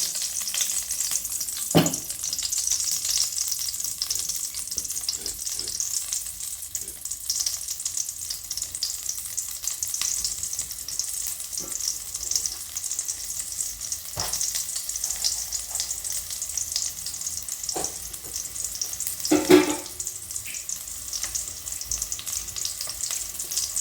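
Crushed garlic frying in hot oil gives a steady, close sizzle that runs unbroken throughout, with a few sharp clinks and stirring scrapes breaking through, and no voices.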